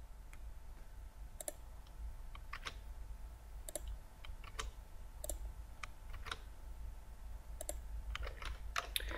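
Scattered clicks from a computer keyboard sound as keys are tapped one at a time while typing dollar signs into an Excel formula, quiet and close over a low steady hum, irregularly spaced, with no talking.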